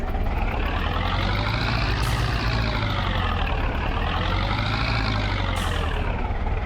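A tractor engine from the farming game Zielonka drones steadily and loud throughout, a heavy low rumble with slowly rising and falling pitch as it drives, with no talk over it.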